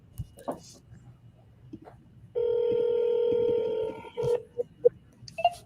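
Phone dialing tones ring out in a steady multi-tone stretch of about a second and a half, followed by a few short clicks and beeps, with faint background noise before and after.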